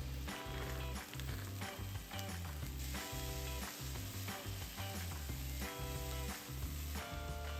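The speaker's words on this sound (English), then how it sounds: "stir fry for about 2 minutes, then add the zucchini skins, broccoli stems and bok choy stem" Vegetables with zucchini skins, broccoli stems and bok choy stems stir-fried in a pan, a continuous close sizzle broken by repeated scraping and tossing strokes, with no voices.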